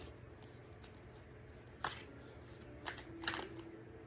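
Soft, close tarot card shuffling with a few crisp riffling bursts over a quiet room hiss, no voices.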